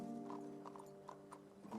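Horses' hooves clip-clopping in the game Red Dead Redemption II, a few irregular hoof strikes over a low droning background, moderately close.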